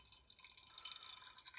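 Water poured over a paper filter in a ceramic V60 coffee dripper to rinse it: a quiet, steady patter of dripping and trickling that swells slightly midway, with no voices.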